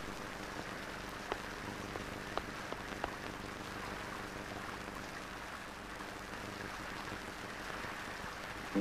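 Steady rain falls on surfaces in a continuous even hiss with scattered sharper drips, moderately loud and unbroken throughout.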